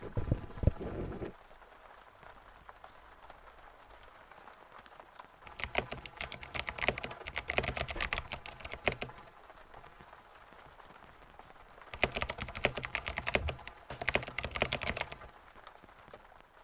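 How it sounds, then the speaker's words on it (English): A computer keyboard is typed on in two fast, dense bursts of crisp clicky keystrokes during a typing test, heard up close, with quiet stretches between and a brief low thump at the very start. "So here, listen to my keyboard review typing test."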